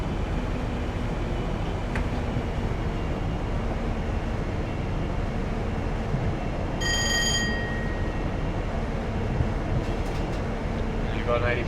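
A train rumbles past in Train Simulator 2020, a continuous loud rolling roar of wheels on rail throughout, with a brief bell-like ring partway through and a voice talking over it.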